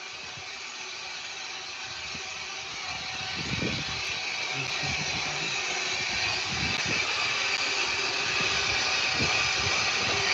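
A miniature railway locomotive on the Romney Hythe and Dymchurch Railway runs with a steady, close engine drone and rumble that builds slightly and holds, with faint clanks and knocks scattered through it.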